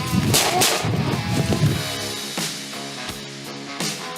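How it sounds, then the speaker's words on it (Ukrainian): Dense, rapid gunfire crackles during military trench defence training, sustained overlapping shots and bursts at first, then sparser reports ringing out with echo, fairly loud and steady. "Стріляємо з всього, що в нас є в бригаді."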